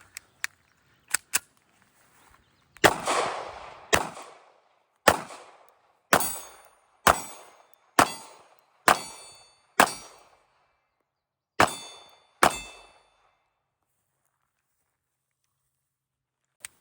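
A Ruger LCP Max pistol fires about a dozen shots at steel targets outdoors, each sharp crack followed by a ringing clang, spaced irregularly with short pauses and no talk.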